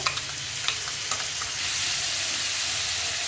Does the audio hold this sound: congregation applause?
no